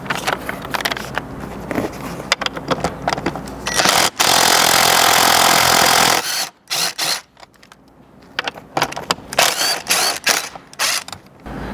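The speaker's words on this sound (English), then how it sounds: "we're going to need a 14mm socket to remove these 2 bolts" A 14mm socket wrench backs out two bolts under a 4th-gen Tacoma seat, with rapid close ratchet clicking in bursts, a stretch of continuous buzzing whir, then more stop-start clicking and handling.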